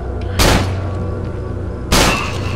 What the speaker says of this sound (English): Oh, I hear your gunfire.